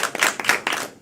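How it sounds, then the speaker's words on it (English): A game-show audience at a Halloween special event claps for themselves, a dense burst of hand claps with several swelling peaks, loud and close, with no talking over it. "Clap for yourselves."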